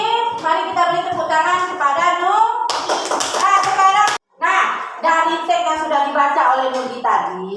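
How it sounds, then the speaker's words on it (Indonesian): Children in a classroom give a short burst of clapping, about a second and a half long, between stretches of a teacher's and children's talk. "Mari kita beri tepuk tangan kepada Nugi"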